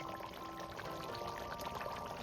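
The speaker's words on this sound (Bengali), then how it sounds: "কাঁচা সর্ষের তেল দিয়ে দিচ্ছি" Raw mustard oil is poured into a simmering tilapia fish curry, a quiet, continuous liquid stream lasting a couple of seconds, close and faint over a steady background hiss.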